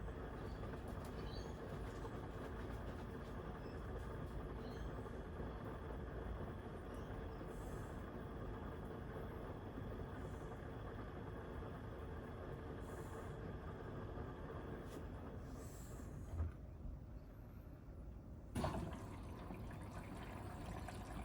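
A Chiq 8kg washing machine runs a cottons cycle at 40°C, its drum churning soapy water in a steady, continuous wash rumble that fills the whole stretch, with a couple of brief knocks near the end.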